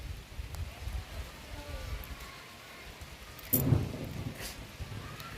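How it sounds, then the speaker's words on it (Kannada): Rain falls steadily in a village near Devanahalli, with a heavy thunder rumble swelling up about two-thirds of the way through and lingering at moderate loudness before a fresh burst at the end. "ಜೋರ ಗುಡುಕ್ತಿದೆ ನಮ್ಮ ಕಡೆ ಕೂಡ ಮಳೆ ಬರ್ತಿದೆ"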